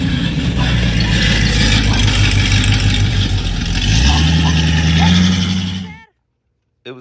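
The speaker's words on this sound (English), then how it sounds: "the hanger started hitting the drive shaft" A car's broken exhaust hanger knocks against the drive shaft while the engine runs at a steady mid-pitched drone. The rattle and hum stay loud and continuous for about six seconds, then stop abruptly.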